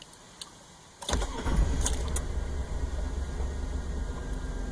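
A Chevrolet Suburban with a newly replaced fuel filter starts up: after a second of near silence the engine cranks and catches with a loud burst, then settles into a steady, low rumbling idle heard close by.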